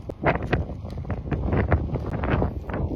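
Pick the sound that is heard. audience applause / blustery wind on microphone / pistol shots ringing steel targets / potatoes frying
blustery wind on microphone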